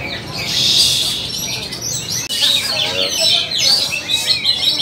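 Oriental magpie-robins (kacer) singing at a songbird contest, several birds trilling and whistling at once in loud, overlapping bursts, with crowd murmur underneath.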